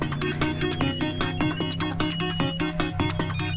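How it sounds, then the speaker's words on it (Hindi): A phone rings in a Bollywood comedy scene, its electronic ringtone a steady, loud run of repeating tones over a music-like backing, with no talk. "अंकल जी का फोन है।"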